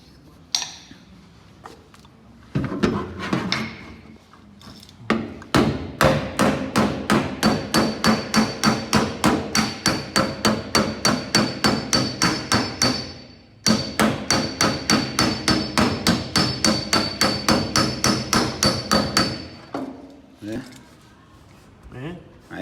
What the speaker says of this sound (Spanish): vas soldando y vas planchando despacito